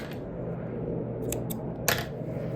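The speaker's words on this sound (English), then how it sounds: "I can cut off the yarn" Scissors snip through crochet yarn, two or three quick, quiet crisp cuts close up in an otherwise hushed room.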